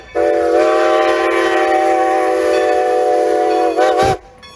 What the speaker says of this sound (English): you get to see big old steam locomotives